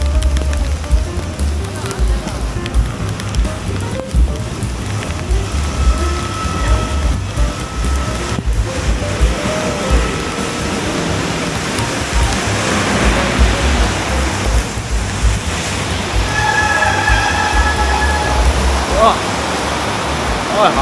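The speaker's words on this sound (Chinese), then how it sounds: "大雨啊！" Heavy rain pours down around a cyclist riding through Taiwan, a loud, dense, continuous hiss close by, with a voice briefly speaking under the noise.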